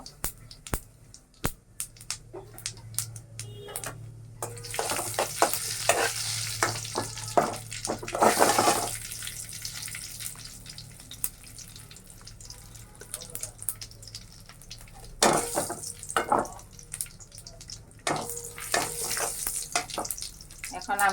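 Nigella seeds fry in hot oil for an okra curry with coconut, giving a steady crackling sizzle with repeated scraping stirs and utensil taps that come and go over a constant low kitchen hum.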